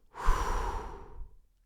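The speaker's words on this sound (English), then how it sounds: "short breath, almost violent breathing" One short, forceful breath, a rough, almost violent exhale lasting about a second, close and alone with no talking.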